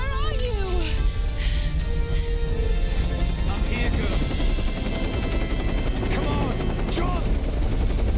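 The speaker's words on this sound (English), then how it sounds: "That helicopter's coming in handy" Helicopter rotor noise drones continuously under busy Tomb Raider game sounds, with whooshing effects and bursts of gunfire, and a voice talking over it.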